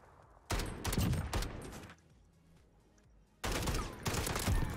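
Burst-fire FAL rifle shots in Call of Duty: Vanguard, two loud rapid volleys separated by a quieter gap, close and punchy with no voices over them.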